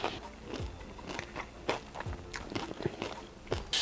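Someone bites and chews crunchy seasoned food up close, a series of sharp crackling crunches in an uneven rhythm.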